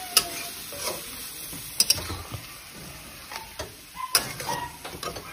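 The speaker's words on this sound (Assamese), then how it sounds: "ধুনীয়াকৈ পিঁয়াজৰ লগত মিক্স কৰি দিওঁ" Nepali-cut mutton being stirred with onions in a pan: scattered scrapes and clacks of a spoon against metal over a low, soft sizzle, close and fairly quiet.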